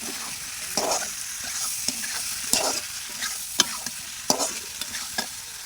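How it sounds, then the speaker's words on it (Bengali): Boiled potatoes frying in a pan with spiced oil for an egg and potato curry, a steady sizzle broken by repeated scraping strokes of the stirring spoon, close and moderately loud, with no voices. "এরপরে দিয়ে দেব সিদ্ধ করে রাখা আলুগুলো, যেটা আমি আগে সিদ্ধ করে রেখেছিলাম।"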